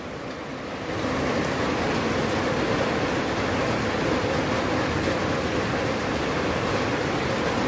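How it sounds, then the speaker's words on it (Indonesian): Heavy rain sets in after a second of quiet and keeps up as a dense, steady hiss, moderately loud and unbroken, with no voices over it. "Ini hujannya makin gede aja"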